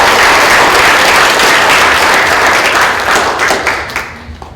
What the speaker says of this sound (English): let's actually give them a round of applause